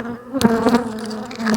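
Honeybees from a strong, healthy hive buzzing close by during a frame-by-frame inspection, a steady droning hum with a few louder passes, no talking.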